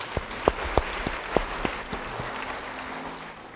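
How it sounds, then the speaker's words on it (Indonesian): Church congregation applauding during a sermon: a few sharp, scattered claps stand out over a soft wash of applause in a large room, thinning out after a couple of seconds. "Beri tepuk tangan buat Tuhan."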